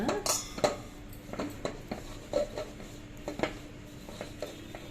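Fish pieces mixed by hand with masala and lemon juice in a metal bowl, with close clinks and scrapes of a spoon and dish, faint and intermittent under a quiet room hum.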